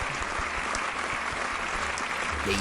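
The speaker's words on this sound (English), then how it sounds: "Big round of applause." A round of applause sounds as a steady wash of clapping at fairly low level throughout, with a slight swell near the end.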